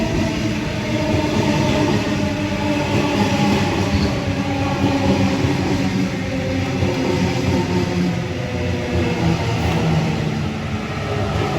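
A Sydney Waratah Series 2 eight-carriage electric train with an orange front passes on the down slow line at Petersham during the morning peak. It gives a loud, steady rumble and rail roar from start to end, with no talk.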